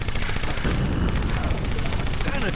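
Dense gunfire rattles in the motorcycle combat game Road Redemption, rapid loud shots crackling continuously throughout amid busy game noise.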